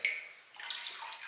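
Water from a measuring amount is poured into packet milk in a pot while making wheat palada payasam, a brief faint splashing trickle heard alone.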